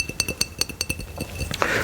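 Glass clinks in a quick series of bright, ringing taps, about a dozen close strikes in an uneven rhythm, ending with a short rattle.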